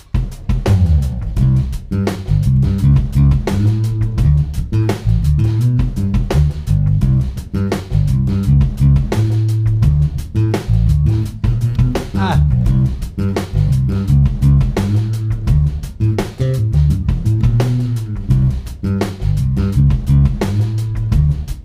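A guitar plays a repeating root, five, three arpeggio pattern over steady drums and bass, with a loud, full band groove holding a constant rhythm and no talking.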